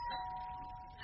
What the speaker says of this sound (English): That was the doorbell, wasn't it?